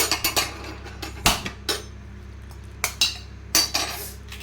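Fork or spoon whisking an egg against a metal bowl for Yippee egg noodles, a quick series of sharp clinking taps in short bursts, close and fairly loud with no talk.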